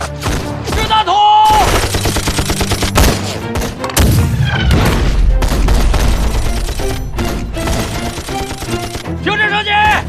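Machine gun fire in a snowy war film battle against tanks, sustained rattling bursts and booming impacts layered with dramatic music, loud and dense throughout.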